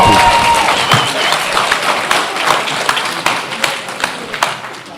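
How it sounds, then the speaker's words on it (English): Applause breaks out among the audience at a school board meeting, loud at first and then thinning into scattered, distinct claps that gradually fade, with sharp individual hand claps standing out. "We will not have applause or outbursts."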